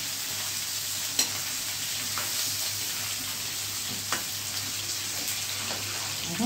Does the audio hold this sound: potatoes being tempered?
yes